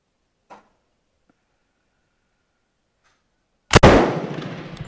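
A Bren MK2 light machine gun fires a single sharp, loud shot with a ringing decay after a quiet pause, preceded by a faint click.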